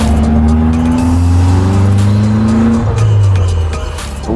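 A Caterham Roadsport race car driving hard on track at Circuit Zandvoort, its engine droning loud and steady as the revs rise and fall between gear changes, with tire squeal near the end.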